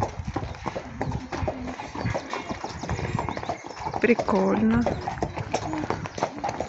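Horses walking at an equestrian therapy club, hooves clip-clopping in a steady close rhythm, with a brief whinny partway through and people chatting nearby.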